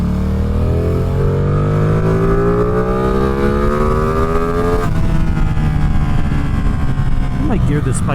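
A Ducati Streetfighter V2 motorcycle engine revs up through a gear on a road, pitch climbing steadily, then dropping at a shift and pulling again, loud and close with wind noise.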